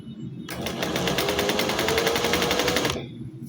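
A sewing machine runs steadily for about two and a half seconds, stitching satin fabric for a scrunchie, with a fast, even mechanical rattle that starts and stops abruptly.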